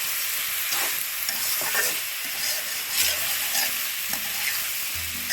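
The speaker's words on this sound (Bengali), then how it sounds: "ভালো করে একটু নাড়াচাড়া করে মিশিয়ে কষিয়ে নেব বা হালকা ভেজে নেব" Ingredients for a tengra fish curry with vegetable stalks are stirred and lightly fried in a hot pan, giving a constant close sizzle broken by repeated scraping strokes of a spatula.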